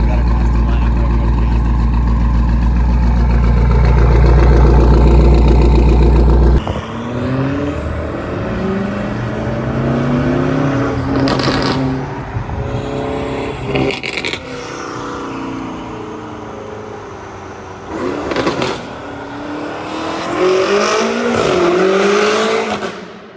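A straight-piped BMW M5 Competition with no exhaust valves roars loud and close, a sustained heavy rumble giving way to sharp revs and crackling bursts, with people talking over it.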